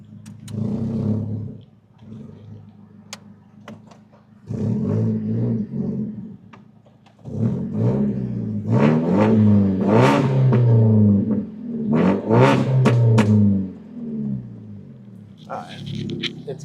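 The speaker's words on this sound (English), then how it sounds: "It's kind of revving like normal again." A car engine revs repeatedly, rising and falling in surges of rough, growling tone, with quieter idle gaps between the bursts.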